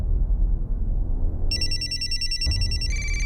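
A telephone rings in a tense crime-drama scene, its bright electronic trill starting partway in and continuing steadily to the end, over a low room rumble.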